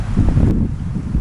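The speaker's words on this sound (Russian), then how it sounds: "Ветрено здесь, конечно" Strong wind gusts across an open, exposed northern outdoor spot, a loud continuous roar of buffeting on the microphone with a brief rustle in the middle.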